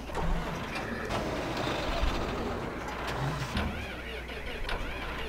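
A Massey Ferguson 6613 tractor, 94 kilowatts and 128 horsepower, idles in Farming Simulator 2015 with a steady low engine rumble that holds fairly even throughout, with a few brief knocks along the way.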